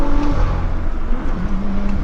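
A 2016-era BMW M2 F87 with its N55 turbocharged straight-six is floored at full throttle through a corner. The engine note is loud and close, with the pitch dipping and then climbing again, and no voices are heard.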